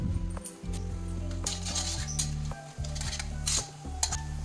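Whole spices, cardamom and black pepper, sizzle with cumin in hot oil under a steady frying hiss, as a metal utensil repeatedly clinks and scrapes against the pan, with no talking.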